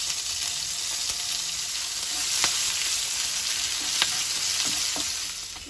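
Nigella seeds, two bay leaves, green chilli and ginger crackle and sizzle in hot oil, a loud, dense spitting hiss with scattered sharp pops throughout.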